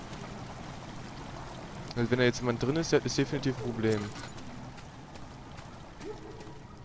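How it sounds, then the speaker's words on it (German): A low, steady wash of water trickles into a chamber in Amnesia: The Dark Descent, running quietly beneath someone speaking German in the middle stretch. "Wasser tritt langsam in die Kammer ein."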